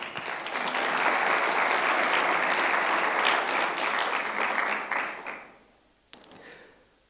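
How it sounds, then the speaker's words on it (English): An awards-ceremony audience breaks into loud, sustained applause, many hands clapping densely for about five seconds before it fades out, followed by a few scattered claps. "I just want you to give yourself a round of applause."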